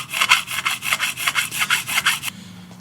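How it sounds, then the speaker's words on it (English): Steady back-and-forth rasping of a small file cutting a string slot into a guitar nut, about a dozen even strokes, close and loud, then it stops. "So I just file away and then keep rechecking by putting the string back into the slot until it's the right height."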